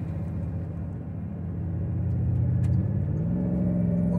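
A 2006 Porsche Cayenne S with a 4.5 V8 rumbles close by, its engine note rising as it is revved harder partway through, loud and continuous with no talk.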